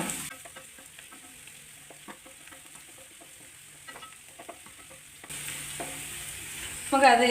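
Chopped banana flower and curry leaves sauté in oil for a Kerala thoran. A quiet, low sizzle runs beneath scattered scraping stirs of a spoon in the pan, and the frying grows louder and brighter toward the end.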